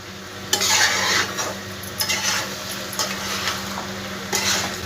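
Stirring a potato and taro curry in a pan with a little water added, sharp spoon scrapes in bursts over a low steady simmering sizzle, no voices.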